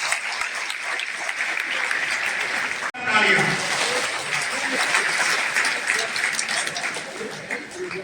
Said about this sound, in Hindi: इनके लिए फिर तालियां बजनी चाहिए।